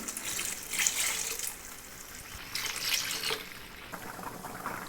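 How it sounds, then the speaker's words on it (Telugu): Water pours into a pot of potato and pea curry in two or three short splashing bursts against a quiet kitchen background. "వాటర్ వేసుకోవాలి"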